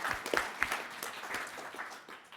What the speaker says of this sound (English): big round of applause for the affirmative.